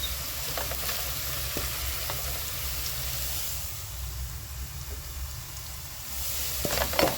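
Onion frying in a pan with pilau masala, a steady close sizzle and hiss with occasional stirring scrapes and clinks of a utensil against the pan.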